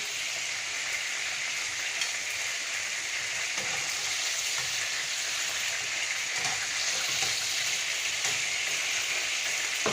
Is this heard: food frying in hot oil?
yes